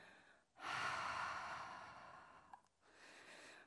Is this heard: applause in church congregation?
no